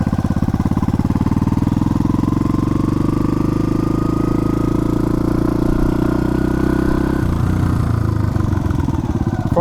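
A smoky Yamaha bobber motorcycle that burns a little oil runs loud and close, its engine note climbing steadily as it pulls through the gears, then dropping abruptly near the end at a shift.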